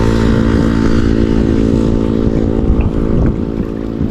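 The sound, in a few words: motorcycle passing by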